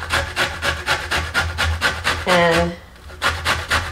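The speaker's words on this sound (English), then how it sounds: "zest the skin of the lemon peel with a nice sharp grater." A lemon is rubbed against a sharp grater to zest the peel, giving quick, rhythmic rasping strokes about three per second, close and clear, with a brief pause and a single spoken word midway.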